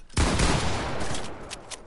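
Gunfire in Fortnite, a loud burst of rapid overlapping shots and blasts that hits suddenly and rumbles on for about a second and a half before tapering, with no talk.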